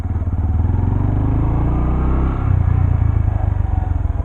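A manual motorcycle pulling away on a gentle throttle opening, its engine giving a close, steady pulsing rumble that briefly dips then picks back up as it slows under engine braking, with no talking.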